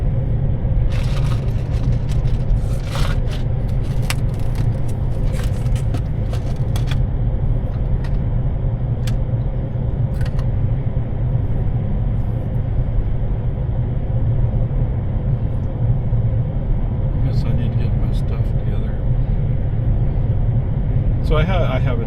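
Car under Full Self-Driving on Farm to Market 1431, keeping pace with traffic: steady low road rumble and tire noise throughout, with occasional brief clicks and higher rattles over the drone, and no voices.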